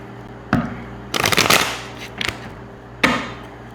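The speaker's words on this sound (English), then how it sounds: "Let's do another shuffle." Tarot cards are shuffled in quick riffling bursts, with a sharp flick, a longer rustling shuffle, a brief patter and another crisp snap, all close and clear against a quiet room.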